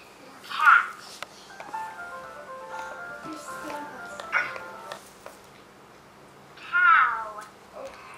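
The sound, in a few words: cat meow from a children's toy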